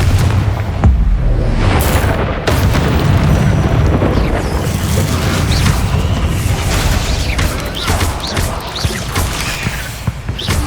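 In the Hogwarts Legacy video game, a Confringo spell detonates with a heavy booming explosion, followed by a sustained rumbling wash of crashing debris and battle noise that stays loud throughout.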